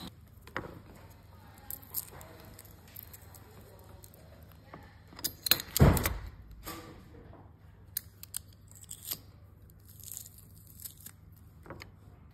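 Drained noodles shaken in a metal colander make one brief, loud clattering rattle near the middle of an otherwise quiet stretch, with faint scattered clicks before and after.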